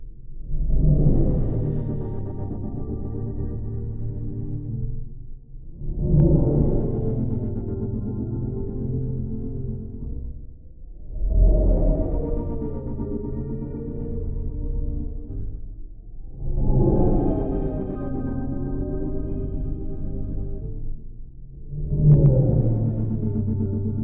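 Five long swelling tones, each about five seconds, with a washy, reverberant tail whose intensity is modulated, shifting in character from one swell to the next; no voices.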